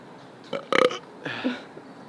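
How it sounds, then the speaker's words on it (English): A person lets out a short burp close to the mic in a quiet room: a few brief throaty croaks, then a second, softer gurgling belch. "I have to burp and it's not happening."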